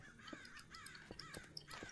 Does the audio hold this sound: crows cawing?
yes